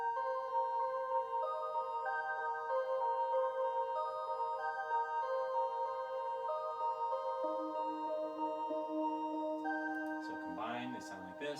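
Soft synth bell part playing sustained, chiming tones in a quiet, slowly shifting pattern, with a brief burst of other sound near the end.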